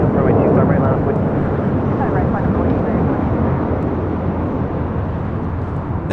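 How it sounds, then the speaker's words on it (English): JetBlue Airways Airbus A321 taking off at LAX bound for JFK, a loud sustained roar of jet engines dominating the clip and easing slightly toward the end. "This is JetBlue Airways 1524 taking off to JFK on an A321."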